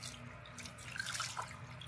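Water poured from a stone mortar into a pot of sour tempoyak fish curry, trickling and splashing softly nearby with a few drips, no talk.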